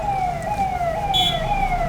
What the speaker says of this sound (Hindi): रास्ता दो भाई, पुलिस हो या एम्बुलेंस, दोनों को जल्दी है।